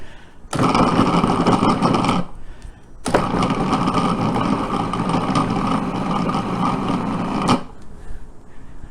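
Food processor whizzing quiche ingredients down to a coarse, pea-gravel texture, two loud whirring bursts, a shorter one then a longer one, with a brief pause between.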